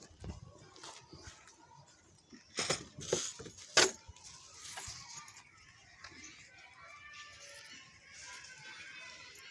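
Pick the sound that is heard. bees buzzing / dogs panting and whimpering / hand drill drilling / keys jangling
keys jangling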